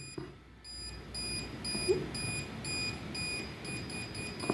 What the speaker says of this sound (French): plus vous allez entendre le bip et le voyant qui va s'allumer